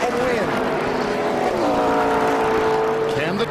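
NASCAR Cup Series race cars roaring around the track at the Pennsylvania 500, a loud sustained engine whine shifting in pitch as cars pass, with a commentator talking over it.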